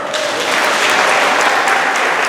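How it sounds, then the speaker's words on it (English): An audience claps steadily and loudly at a senior talent showcase at the New Mexico Special Olympics State Summer Games, dense applause filling the room at an even level throughout. "Give yourselves a round of applause."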